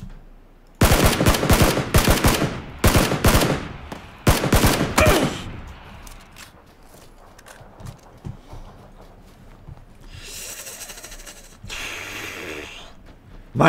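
Loud bursts of automatic gunfire in the shooter game PUBG crack out in several rapid volleys over the first five seconds, then give way to quieter rustling and a couple of softer noisy bursts later.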